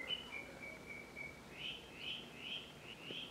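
A bird calls outdoors, sending out a string of quick, high chirps that repeat in bursts, faint and alone with no voices.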